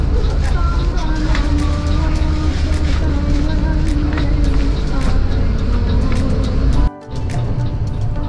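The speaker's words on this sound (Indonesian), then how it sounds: "Nah, akhirnya bus berangkat dan pergi meninggalkan garasi." Executive bus pulling out of its garage, a steady loud engine rumble and road noise filling the clip, with faint background chatter and a brief dip near the end.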